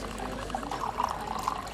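Hot brewed coffee pours in a café, a steady liquid stream splashing into a cup with a soft trickle and gurgle close by.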